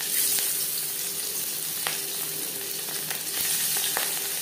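Marinated katla fish sizzles steadily in hot refined oil, a close, continuous fry with crackling pops and a few brief sharper spatters throughout.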